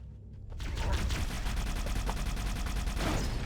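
Rapid gunfire from enemy weapons in classic Halo, a dense continuous burst of repeated shots starting after a brief quiet moment, loud and close.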